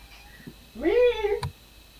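A single drawn-out meow from a house cat rises and falls over about half a second, fairly close and clear, followed by a soft thump in an otherwise quiet room.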